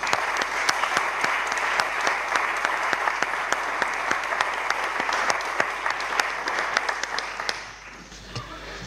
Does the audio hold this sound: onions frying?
no